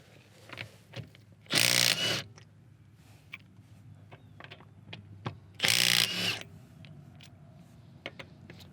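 A Milwaukee M18 FUEL compact 1/2-inch impact wrench hammers on a car lug nut in two loud, close rattling bursts of about a second each, separated by quiet clicks and handling sounds.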